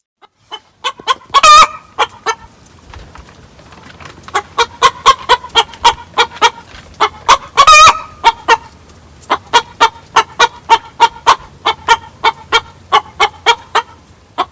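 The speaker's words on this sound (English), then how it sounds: "it's the egg song" A hen sings the egg song: a long run of rhythmic, loud clucks and cackles close by, rising into two drawn-out squawking calls, with no people talking.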